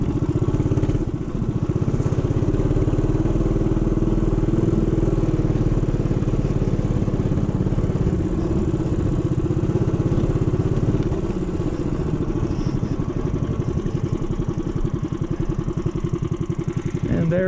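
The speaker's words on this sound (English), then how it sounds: "Coming up to a favorite place for off-road motorcycles. They have a chance to climb quite an embankment." Off-road motorcycles on a desert canyon trail drone steadily at a distance as they climb a steep embankment, with a continuous rough engine note and faint clatter through the whole stretch.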